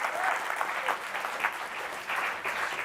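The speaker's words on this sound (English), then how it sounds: "Someone's trying to get a round of applause going. Let's get that going." Audience applause, steady and moderately loud, sustained clapping from a crowd throughout with no break.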